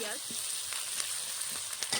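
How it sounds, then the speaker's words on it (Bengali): Chopped onions sizzle in hot oil for Bengali chicken kosha, a bright, continuous frying hiss with a few stirring scrapes, close and brief. "পেঁয়াজটা ভাজা হবে লাল লাল করে।"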